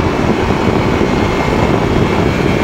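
A paramotor engine in cruising flight drones steadily beneath rushing wind noise, a constant dense roar with no pauses and no voices.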